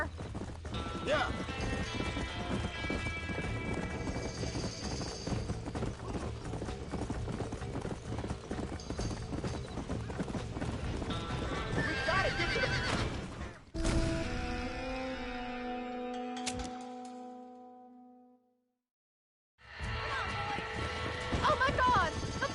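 Horses in a burning ranch barn in the Red Dead Redemption game: steady, rapid hoofbeats clatter under frantic shouting, with a brief whinny, a sudden crash, a short near-silent gap, and then the commotion returns.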